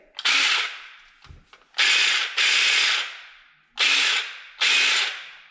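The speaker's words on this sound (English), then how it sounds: "Then you put your battery in." An 18V Ryobi One+ battery slides into a shear and bush trimmer, making four loud, close ratcheting plastic scrapes in quick succession with no talking.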